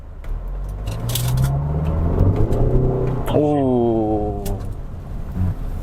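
A 2014 Hyundai Santa Fe diesel pulls away from a stop. Its engine note climbs steadily in pitch as it accelerates, heard from inside the cabin with people talking.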